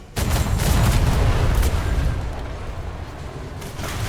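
Ship cannon fire from a first-rate sailing ship in the video game DarksideRP: a loud, sustained booming rumble that starts abruptly and rolls on for several seconds with no talk over it.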